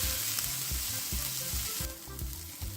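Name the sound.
onion frying in ghee on low flame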